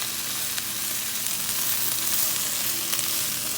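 Polish sausage, browned onions and potatoes sizzle steadily in a pan, a loud, close, continuous hiss of frying with faint crackles throughout.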